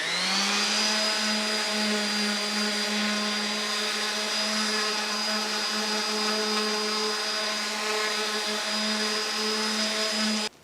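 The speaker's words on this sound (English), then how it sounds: "I'm going to get everything sanded down." A power sander works on wooden twin bed frame parts, giving a steady, loud, continuous whine that holds for about ten seconds and then stops abruptly.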